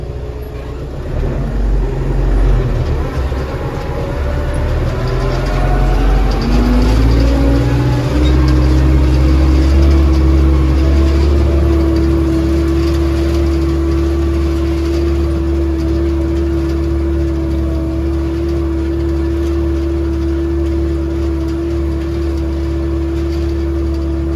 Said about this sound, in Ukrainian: Так, завів трактора.